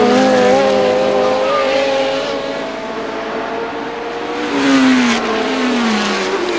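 Formula One cars from the 1970 British Grand Prix, including a Lotus 72, roar past on a fast straight, their high-pitched engines loud and sustained with falling Doppler pitch as they sweep by, one after another.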